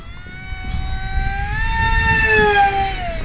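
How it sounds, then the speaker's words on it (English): Scratch-built F-18 radio-controlled jet's electric ducted fan spooling up under throttle, a steady whining tone that climbs in pitch and grows louder over a few seconds against low rumbling background noise. "As soon as I start giving the throttle, it really starts to take off."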